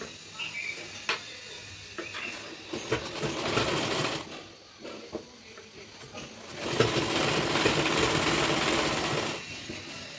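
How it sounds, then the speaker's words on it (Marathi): A domestic sewing machine double-stitches a blouse seam in steady whirring bursts with short pauses between runs, close and fairly loud, louder in a long final run. "आपण डबल शिलाई मारून घेऊ म्हणजे आपली शिलाई उसवायला नको"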